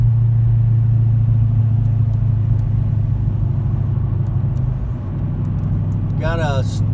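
A car with the stock mufflers swapped for two Flowmaster mufflers and the resonators removed rumbles loudly and steadily up close, with a deep low drone throughout and a voice cutting in at the end.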